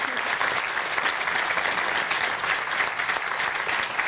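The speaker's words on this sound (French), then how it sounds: "on peut les applaudir" Audience applause at a Corsican event recognizing project leaders, a steady close wash of clapping at full volume sustained for about four seconds.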